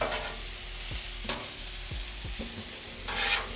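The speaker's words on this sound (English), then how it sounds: "I'm going to add some thyme and about 1 tablespoon of butter to it. Now we'll give it a mix." Steak fried rice being stirred in a hot pan after butter and thyme go in, a steady sizzle with several scraping, tapping strokes of the utensil against the pan, close and clear with no talking.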